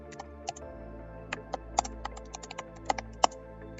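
Close, light tapping on a computer keyboard while details are entered into a web portal form, irregular clicks with a few sharper keystrokes, no talking.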